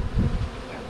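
Honeybees drone steadily at an open hive in a bee yard, a dense, close buzzing of many insects with no voices.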